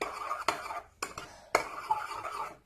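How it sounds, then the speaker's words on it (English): A spoon stirring thick sweet chocolate hummus in a bowl, with three distinct clinks against the bowl amid soft, close scraping and smearing sounds. "Give this a good stir"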